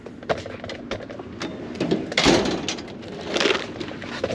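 A drawer of a Snap-on metal tool box is handled up close: a series of sliding rattles, clicks and metallic knocks. The sounds are irregular, with louder scrapes midway and near the end, and no talk.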